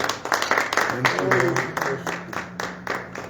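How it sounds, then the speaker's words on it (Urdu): A church congregation claps loudly in praise of the Lord Jesus, a dense, lively patter of many hands, with speech heard over the applause. "آئے خداوند یسوع کے لیے زوردار تالیاں بجائیے"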